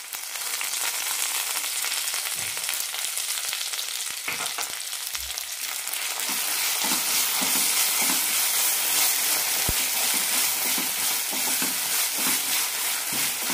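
Masala, shallots and drumstick sauté in a pan with a strong, continuous sizzle at close range, and scraping and stirring knocks come at irregular moments.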